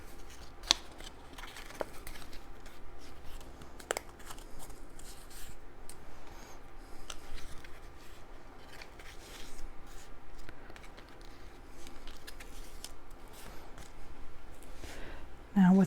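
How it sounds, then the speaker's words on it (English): Paper card pieces for a pop-up bunny flower card are folded by hand, producing soft intermittent rubs and sharp creasing ticks close up, beneath a person talking. "You want to fold these pieces the way that I'm doing it here."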